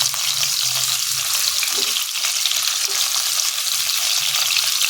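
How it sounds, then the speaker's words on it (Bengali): A dense, close hiss of paneer pieces frying in white oil in a kadai, steady and loud with occasional stirring clicks, no voices. "একটু হালকা লাল লাল করে পনিরটাকে ভেজে নেব"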